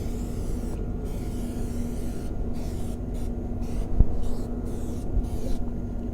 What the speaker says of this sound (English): We're just going to take and spray all over.